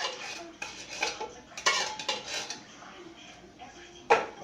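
Canned diced tomatoes are dumped into a pot of homemade chili, with a series of metallic clanks and scrapes from the can and spoon against the pot, the loudest near the end.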